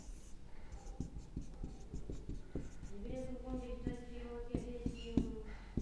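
Pen strokes on paper as the number five is written by hand eight times, a series of short scratchy taps and scribbles, close and moderately loud, with a voice speaking over much of it.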